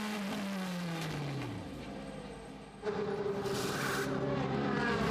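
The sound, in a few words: DTM race car leaving the pit lane after a pit stop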